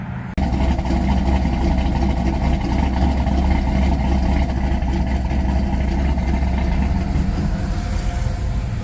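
A pickup truck engine idles steadily and loudly up close, a continuous low rumble that starts abruptly and holds even for about eight seconds with no voices.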